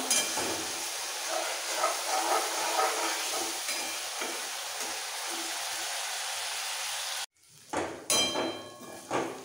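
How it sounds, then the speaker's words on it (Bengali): Blended onion paste frying in hot oil for chicken pulao biryani, a loud continuous close sizzle and hiss that cuts off briefly near the end, then resumes with stirring clatter, no voices. "পেঁয়াজটাকে লাল করে ভেজে নেব।"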